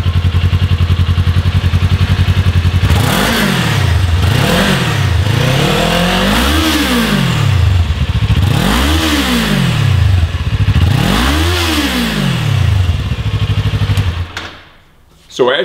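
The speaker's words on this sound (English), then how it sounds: "let's start with our stock exhaust note." A 2018-2023 Kawasaki Ninja 400 motorcycle with its stock exhaust idles with a steady low rumble, then revs up and down five times in smooth swells before cutting off near the end.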